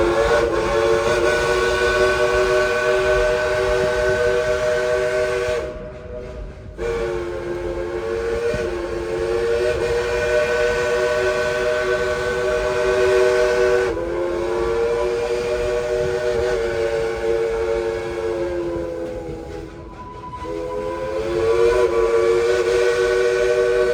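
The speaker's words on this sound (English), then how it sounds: "Let's tell the engineer to blow that whistle on the count of 3." The Dollywood steam train's whistle blows loud and close in several long, sustained blasts, each with a rich chord-like tone and short gaps between them, over the steady rumble of the moving train, with no talking.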